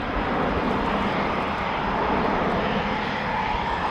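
Airbus A400M military transport aircraft making a steep 70-degree turn just after takeoff at an air display, a loud continuous turboprop engine roar, close and sustained.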